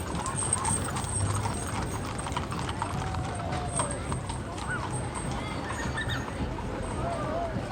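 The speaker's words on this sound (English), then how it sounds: "And some more beautiful horses coming by." Horses pass by in the Billy Barker Days parade in Quesnel, hooves clip-clopping on pavement amid crowd chatter and outdoor bustle, with faint mechanical rattles.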